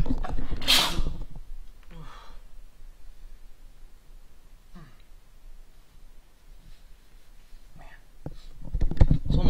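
A single sharp, loud sneeze bursts out near the start, followed by quiet room tone with faint breaths and small shuffling sounds.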